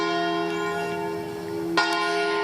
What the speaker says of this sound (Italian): spero che mi sentano con le campane che stanno suonando